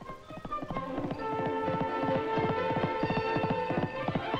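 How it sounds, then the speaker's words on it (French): A horse gallops briefly during a tent-pegging style lance skill game in India, a steady rhythmic clip-clop of hooves running close and fairly loud throughout, with no voices. "un court galop"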